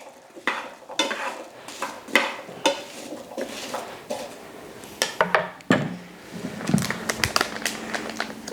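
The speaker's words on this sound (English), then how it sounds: "make sure also to stir it frequently so nothing's sticking to the bottom of the pan." A spoon stirs apple preserves in a cooking pan, scraping and knocking against the bottom and sides in irregular close strokes, with faint clinks and a low simmering background.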